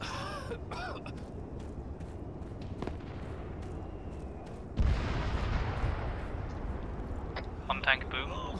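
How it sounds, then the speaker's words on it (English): A tank explodes in Arma 3 multiplayer, a sudden low boom partway through amid scattered battlefield gunfire and distant blasts, with talk over radio throughout. "tank boom."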